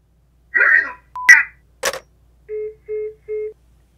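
Cellular phone beeps: a few scraping clicks and a sharp tap, then three short, evenly spaced electronic tones close up, with no talking.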